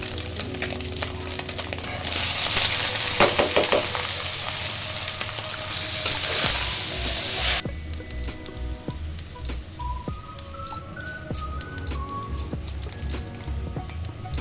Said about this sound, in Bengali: এখন নুডলসটা ছেড়ে দিব